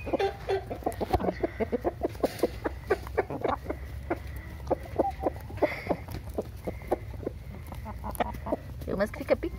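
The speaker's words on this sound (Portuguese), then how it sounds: "Olha a galinha, olha o tamanho daquela galinha ali." Giant Índio chickens on a small farm cluck in quick, rhythmic bursts close by, a steady stream of short calls with occasional louder squawks.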